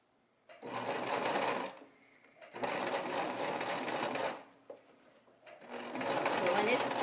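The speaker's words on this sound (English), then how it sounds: "I'm going to sew it." A domestic sewing machine stitches fabric for a baby romper in three long runs of steady, close, moderately loud whirring, separated by short quiet pauses.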